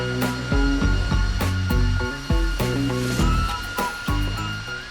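A drain pipe descaling machine motor runs loudly and unevenly nearby while cleaning out sewer pipes, its pitch repeatedly stepping up and down as the load shifts, with no voices.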